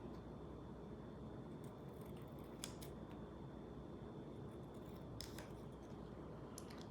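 Scissors trimming water slide decals for a custom NASCAR diecast car, a few faint crisp snips scattered over quiet room hum, no talking.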